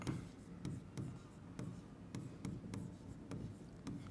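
Chalk or marker strokes on a classroom board during a physics lecture on electric charges, heard as quiet, regular taps and scratches spaced about half a second apart, fairly distant and soft.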